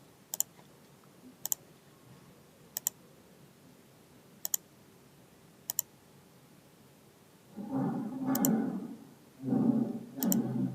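Computer mouse clicking at a desk, five sharp isolated clicks spaced a second or so apart, followed by a few louder bursts of rustling handling noise near the end.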